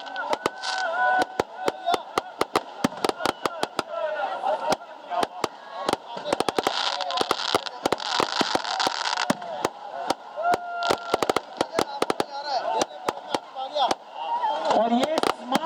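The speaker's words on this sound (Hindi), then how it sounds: "तकरीबन 10 मिनट तक का ये आतिशबाजी का मुजाहरा है।" A New Year fireworks display in Pakistan crackles with dense, rapid bangs and pops, some loud and sharp, over a continuous roar of crowd noise and voices.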